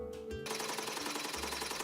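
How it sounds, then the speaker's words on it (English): Hammer beating gold leaf in a craft studio, with rapid, even, metallic blows in a continuous rattling stream after a brief quieter start. "It may look like the hammer is beating the gold leaf to thin it"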